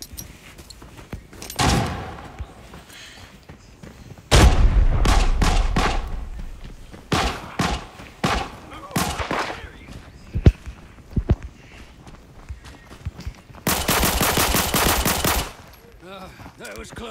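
Gunfire in the video game Arena Breakout: several loud bursts of automatic fire and single shots spread across the stretch, with a long sustained burst near the end and quieter footsteps and movement between.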